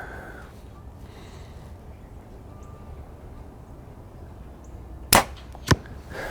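A Backyard Bows Elite Basin target takes arrows shot from a bow, two sharp close thwacks about half a second apart after a stretch of quiet room noise.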